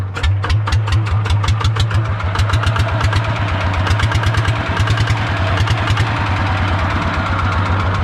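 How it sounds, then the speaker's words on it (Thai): A rough, loud built engine in an E-taen farm vehicle idles steadily up close with a fast, uneven knocking rhythm and a chattery mechanical clatter throughout. "เสียงเครื่องอาจจะดังแรงหน่อยนะครับ"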